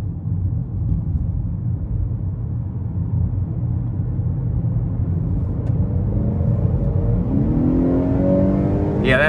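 A 2021 Honda Accord 2.0T Touring engine revs up and accelerates hard onto an interstate, its steady low rumble rising into a climbing whine near the end, loud and close.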